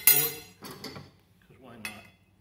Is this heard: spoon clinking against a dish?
yes